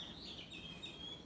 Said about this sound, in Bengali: একটা দোয়েল পাখি আসছে,